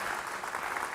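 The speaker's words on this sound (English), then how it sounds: "Round of applause." Audience applause at a community visioning meeting for Leavenworth planning commission and city council members, a steady dense wash of many hands clapping together.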